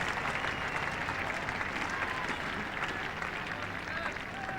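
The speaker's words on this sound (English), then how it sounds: "Applause for the half century up." Cricket crowd at The Oval applauding England's fifty during a 1981 Test against Australia, steady distant clapping filling the ground, with a faint voice underneath.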